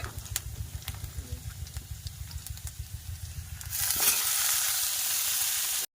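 Vegetable curry frying in mustard oil in a wok, a steady close hiss with rhythmic scraping strokes, then a sudden louder, brighter sizzle in the final seconds.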